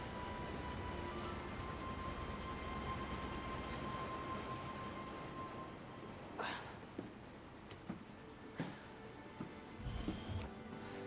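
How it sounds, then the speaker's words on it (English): Train passing by in the video game Resident Evil 2, heard as a steady low rumble with a thin sustained whine, then a few scattered clanks and knocks as it rolls past. "How lucky are we that a train just happened to be passing by?"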